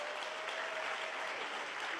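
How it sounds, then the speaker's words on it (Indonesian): Church congregation applauding during an Indonesian sermon, a continuous, fairly soft wash of many hands clapping at a distance, with a faint steady tone faintly audible underneath. "Tepuk tangan sama Tuhan Yesus"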